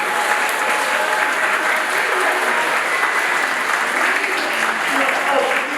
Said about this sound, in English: Can we clap for them once again?